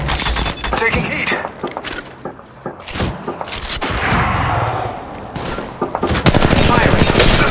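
Rapid gunfire in the Apex Legends Mobile video game, loud bursts of automatic shots and single cracks clustered in quick volleys with short pauses, close and punchy throughout.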